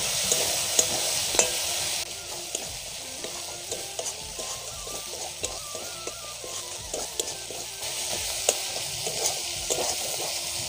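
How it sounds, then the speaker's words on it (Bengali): Spices frying in a pan as turmeric, coriander powder, meat masala and Kashmiri red chilli powder are stirred in, giving a continuous close sizzle broken by frequent light scrapes and taps of the spoon, with no talking. "তারপরে 1 চামচ ধনের গুঁড়ো দেব, মিট মশলা, কাশ্মীরি লাল লঙ্কার গুঁড়ো দিয়ে ভালো করে কষে নেব"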